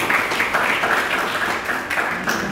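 Audience applause during a medical lecture on cardiovascular examination, a steady wash of many hands clapping at close range, loud and continuous without pauses.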